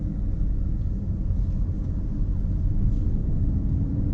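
A 2016 Skoda Superb 1.6 TDI with DSG gearbox cruising at low speed, giving a steady, even low engine and road rumble with no voices.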